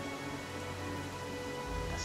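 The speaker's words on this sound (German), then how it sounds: "Ja, Amiri, das nennt sich Regen." Rain falls steadily in the fantasy role-playing game Pathfinder Kingmaker, a dense even hiss of drops on surfaces with a low rumble underneath, continuous and fairly close, with no voices.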